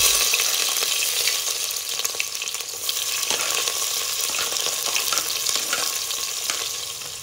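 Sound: cumin and pepper frying in oil

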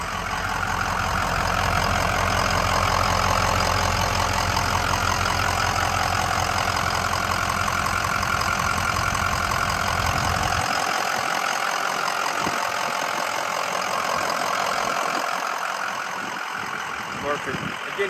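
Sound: Ford Excursion 6.0L Powerstroke diesel engine idling

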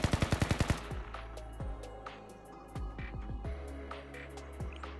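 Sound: gunfire in video game Blue Archive

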